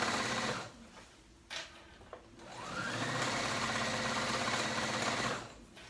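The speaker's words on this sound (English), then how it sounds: "So I'm just top stitching the top of the band." A sewing machine top stitches along the upper edge of a kids' moto pants waistband at an eighth-inch, running as a steady, close, continuous whir for about three seconds after a few short starts.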